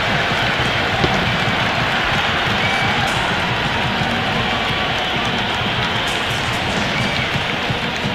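Crowd noise at a cricket ground during an IPL match in the Cricket 26 video game, a dense, steady roar of cheering and clapping throughout, loud and continuous with no clear breaks.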